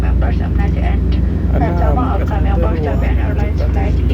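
A loud, steady engine drone fills an airplane cabin, with people talking underneath throughout.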